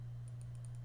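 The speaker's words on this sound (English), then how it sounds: "there's a typewriter" Typewriter keys tapping in the horror adventure game Scratches, several light, quick clicks in a loose rhythm, faint over a steady low electrical hum.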